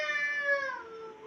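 A child imitates a cat's meow, one clear drawn-out falling mew sung close and alone.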